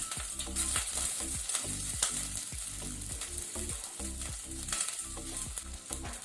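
Onions frying in hot coconut oil in a pan for a crab curry, a steady dense sizzle with rhythmic stirring scrapes running throughout, close and fairly loud, no voices.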